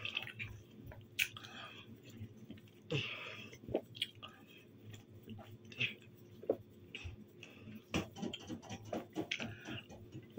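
Someone eating a Minutka cookie, with soft close crunches and mouth sounds at irregular intervals over a quiet room, nearly free of talk.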